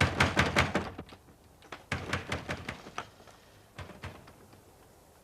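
Repeated banging on a door in bursts of loud, close knocks, two clusters of rapid blows followed by a few scattered single thumps.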